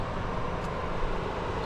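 A car's electric engine cooling fan keeps running after a GDI engine is switched off, a steady broadband whooshing hum with no change across the short stretch.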